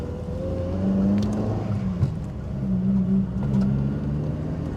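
A Mk1 Ford Fiesta 1.1L engine drones with a low, hollow exhaust note while driving, rising and easing slightly as it runs, heard from inside the car.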